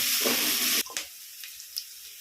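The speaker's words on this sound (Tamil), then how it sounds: "வெங்காயம் போடலாம் கருவேப்பிலை போடலாம் அது வடக்கட்டும்" Onions and curry leaves hit hot oil in a home kitchen while a bitter gourd and mango curry is cooked, giving a loud, close sizzle for under a second before it drops to a faint, scattered crackle.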